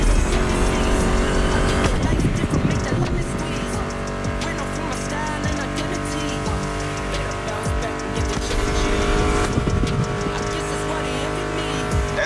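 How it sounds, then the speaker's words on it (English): Muscle car engines race in the video game The Crew Motorfest, with loud, continuous revving and roaring close up. Tire squeal comes and goes, and music plays underneath. "Meshes well with the sound of the engines, you feel me?"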